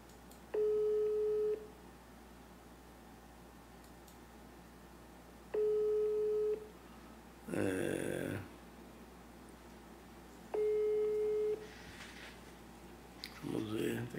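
A phone call that fails to connect, with three spaced, steady electronic line tones repeating over a low hum, interleaved with bursts of muffled talk or handling noise.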